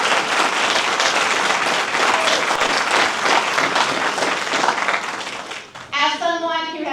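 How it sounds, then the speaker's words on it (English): Audience at a candidate forum for mayor and school board breaks into a loud, sustained round of applause, dense clapping that fades after several seconds before a voice starts speaking. "Can we please offer them a round of applause?"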